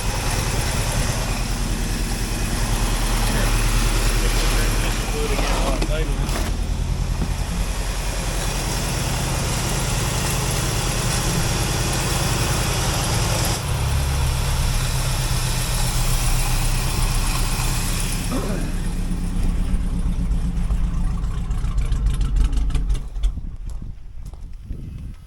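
The engine of a 1963 International Harvester Travelall C1100 runs steadily and loudly up close for the whole stretch, a rough low rumble that sputters and falters near the end, with no talking.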